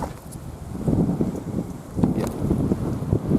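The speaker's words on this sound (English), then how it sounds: "Wonderful wind blowing here." Steady outdoor wind at a Norwegian hut site used for bushcraft and fishing, gusting and rumbling against the microphone with rustling bursts, loud and continuous throughout.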